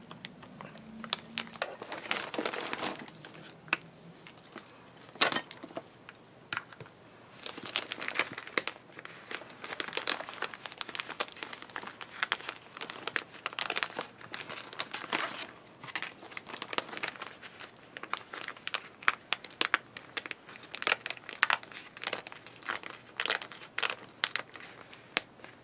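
Scissors snip and crinkle through a plastic journal cover in irregular close crackling bursts, with brief cutting sounds repeating over about half a minute at a quiet, near level.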